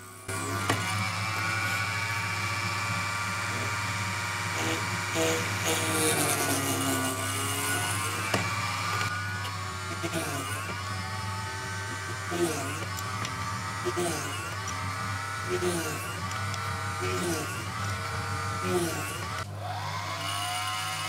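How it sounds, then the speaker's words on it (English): A small electric drill bores holes for the rear pins of homemade pipe organ pallets, a steady close buzz with repeated dips and swells as each hole is drilled, and a person talks over it. "Now I make the holes for the rear pins, which will act as fulcrum for the rear valve."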